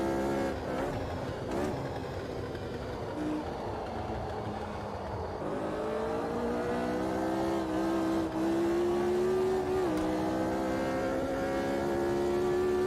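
A race car engine in the Automobilista 2 sim at the Red Bull Ring sustains a loud, buzzy drone, then shifts down and climbs steadily through the gears with sharp upshifts, close and alone without talk.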